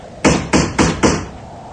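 Four firm, evenly spaced knocks on a door ring out close and loud, each a sharp thud with a short resonant tail, then stop.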